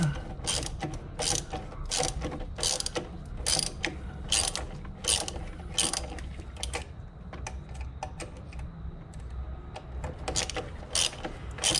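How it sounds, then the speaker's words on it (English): A ratcheting wrench turns a bolt on the right engine mount of a 2004 VW Golf 2.0, giving close, crisp clicking runs in quick uneven strokes with brief pauses between them. "I don't recommend using the wrench, but it was easy to turn."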